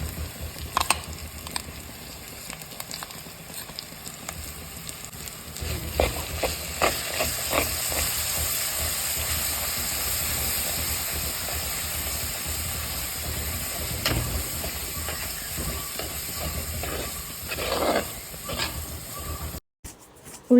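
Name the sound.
shallots, ginger and curry leaves frying in a pan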